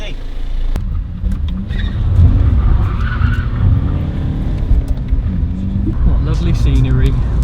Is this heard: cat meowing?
no